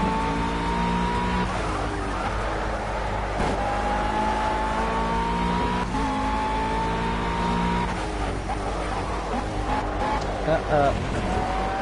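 GT3 race cars roaring around Laguna Seca in a racing game, a steady loud engine drone with rising and falling pitch as the cars shift gears, with occasional tire squeal and commentary running over the top.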